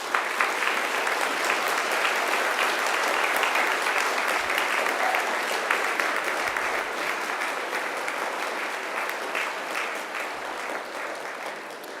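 Graduates at a Macquarie University graduation ceremony applaud their family and friends, a long, steady roar of massed clapping from a large crowd that stays loud and even, fading slightly toward the end.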